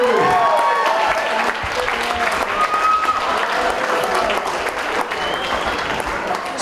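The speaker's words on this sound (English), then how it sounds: "Big round of applause for Sarah Andrew." Wedding guests break into sustained, loud applause at a reception, a dense crowd clapping that holds steady throughout with some voices mixed in.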